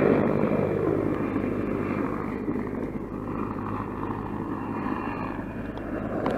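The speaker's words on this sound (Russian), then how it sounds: "Вертолет все летает." A helicopter drones steadily in the distance with a continuous low rotor rumble above the Western Dvina river while someone fishes for pike, with no speech.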